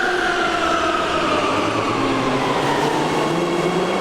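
Inside a moving Warsaw metro train, a continuous loud rumble of the ride mixes with rising and falling whining motor tones and faint wheel noise, and no voices are heard.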